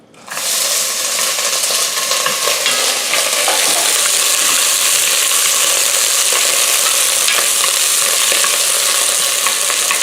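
Frozen pre-chopped onion, about a cup, hits a preheated pot of melted fat on medium-low heat and erupts into a loud, steady, crackling sizzle that holds without pause throughout, with no talk over it.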